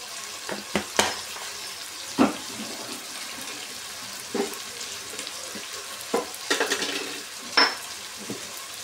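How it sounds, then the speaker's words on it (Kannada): Tomatoes fry in a pan while a spoon stirs them, giving a soft continuous sizzle broken by scattered scrapes and clinks at irregular intervals. The sounds are close and moderately quiet, with no talking. "ಇವಾಗ ಟೊಮೊಟೊ ಫ್ರೈ ಆಗಬೇಕು."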